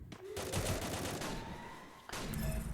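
Automatic gunfire from the mobile shooter game Free Fire during a ranked match, dense rapid bursts fill most of the stretch, briefly thin out, then resume loudly near the end, with no voices over it.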